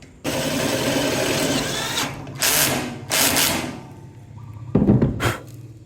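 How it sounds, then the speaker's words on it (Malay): A power drill drives a screw into a steel C-channel column base, giving a steady close whine for a few seconds, then several short bursts and a final sharp rattle as the screw seats. "kemudian kita akan skru satu je dekat bahagian tengah sini"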